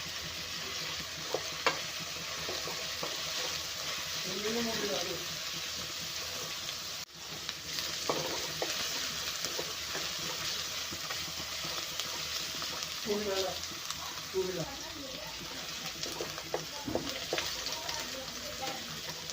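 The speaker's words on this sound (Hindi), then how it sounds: "हमें इसे हाई फ्लेम में ही फ्राई करना होगा।" Noodles frying over a high flame and being stirred in the pan: a steady sizzle with repeated scraping and tossing strokes, and a faint voice briefly heard in the background.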